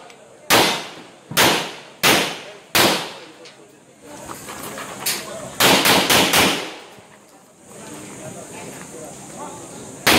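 Shotgun and handgun fire at the Kagitingan ng Bataan shooting championships: four loud, evenly spaced shots, then a quick cluster of rapid reports, with a hissing, echoing tail and some talk around them.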